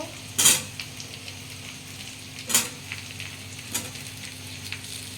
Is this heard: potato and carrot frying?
yes